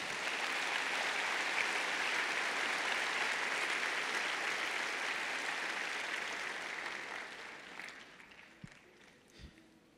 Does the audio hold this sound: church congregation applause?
yes